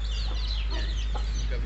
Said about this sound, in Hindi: मुर्गियाँ रखी हैं, चूज़े निकले हैं माशाल्लाह